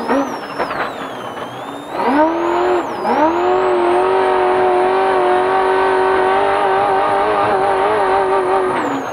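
Trophy truck racing engine heard from inside the cab during a spec race, loud and close, dipping and rising through shifts before holding a high, sustained roar, with a whining tone above it.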